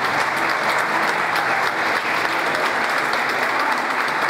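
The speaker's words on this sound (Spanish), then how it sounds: "coronamos con un fuerte aplauso." A crowd at a school tribute to retired teachers gives a strong, sustained round of applause that stays loud and dense throughout.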